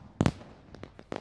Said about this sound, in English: This family sees the fireworks every time it is the 4th of July.